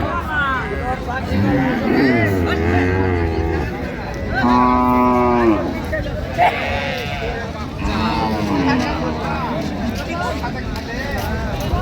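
At a cattle market, a dairy cow and calf low and bellow repeatedly nearby, with long drawn calls rising over a busy hubbub of people talking.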